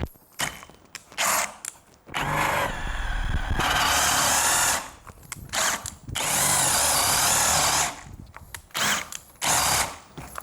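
A Bosch GSB 185-LI cordless brushless hammer drill on speed setting 2 bores with a spade bit, sounding in loud, close whirring bursts separated by short pauses, with a heavier grinding stretch as the bit bites.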